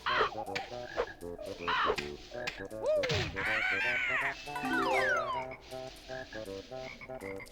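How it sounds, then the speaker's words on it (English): A Banjo-Kazooie game plays a bird call against a busy background of croaking, chirping sound effects and game music, loud and continuous. "Had a moment of panic when I heard the bird because I didn't know where it was coming from."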